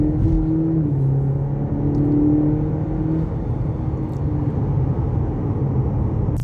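A 2021 Cadillac CT4 under hard acceleration from about 25 mph, its engine note droning steadily and rising in pitch from inside the cabin.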